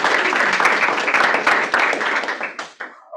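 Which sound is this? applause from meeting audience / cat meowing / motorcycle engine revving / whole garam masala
applause from meeting audience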